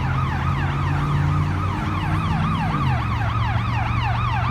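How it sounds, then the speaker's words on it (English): Ambulance siren wailing continuously in fast repeating up-and-down sweeps, loud and fairly near as it passes, with a low engine drone beneath. "That's an ambulance."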